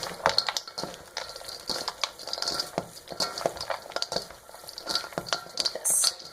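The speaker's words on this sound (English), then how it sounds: "then you just toss and mix it all up" Thai deep-fried rice curry salad with pickled sausage is tossed and mixed in a bowl, irregular clinks of utensils and scraping, moist crunching bursts close by.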